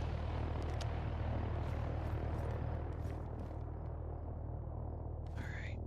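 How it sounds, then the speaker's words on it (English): A helicopter flies overhead in the DayZ video game, a steady low rumble with rotor thrum that persists throughout the clip, with faint clicks and brief higher noises over the drone. "Sorry, we got some helicopter traffic overhead."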